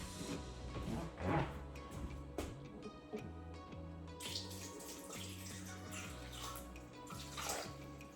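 Water poured into a pot for broccoli soup with sage oil, a steady splashing stream running throughout, close and fairly loud over a soft background hum.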